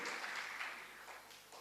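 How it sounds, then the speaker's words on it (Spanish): A church congregation applauds, a soft wash of clapping hands that fades gradually over a couple of seconds, faint and somewhat distant. "Denle un fuerte aplauso al Señor, porque es el poder de Dios."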